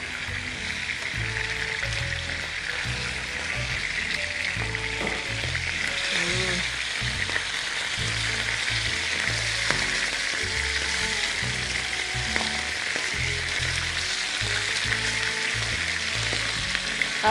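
Mackerel frying in hot oil in a kitchen pan, a dense, steady crackling sizzle that runs continuously and close throughout, with occasional utensil clinks and faint bubbling underneath.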